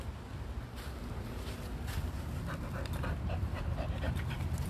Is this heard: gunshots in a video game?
no